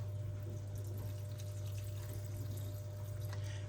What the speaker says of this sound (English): open the carton of milk, pour it into the bowl of cereal